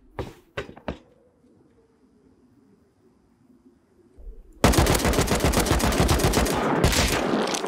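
Gunfire in the survival game Rust: a few sharp isolated shots, a quiet pause, then a sudden loud sustained burst of rapid automatic fire that continues to the end.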